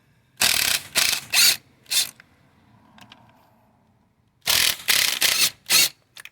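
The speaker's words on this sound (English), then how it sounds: "we'll go ahead and use a E11 socket to remove the mounting bolts for the fuel rail." A ratchet fitted with an E11 socket loosens fuel rail mounting bolts on a Mercedes-Benz C240 C-Class. Two close, loud bursts of rapid clicking come from the pawl, separated by a quiet gap with faint handling sounds.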